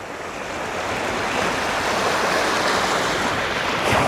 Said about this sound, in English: It's almost like where two seas meet. Two different tides collide.